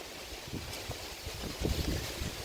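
Strong gusting wind on an overcast day, a steady broadband rush across the microphone that swells into heavier low buffeting bursts, loud and close with no voices.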